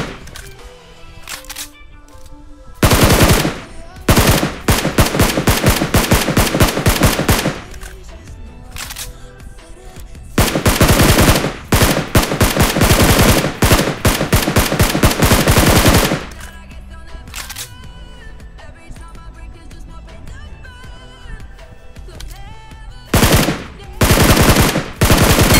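Bursts of automatic gunfire ring out in a battle royale mobile game during a solo ranked match, loud volleys of rapid shots alternating with quieter stretches of game ambience and scattered single shots.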